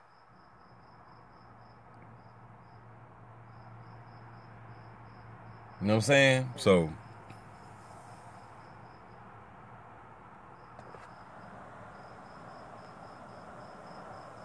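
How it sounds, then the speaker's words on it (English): Crickets chirp at night outdoors in a faint, steady, high-pitched pulsing that runs throughout, broken midway by a brief burst of someone talking. "y'all hear the crickets? They chirping."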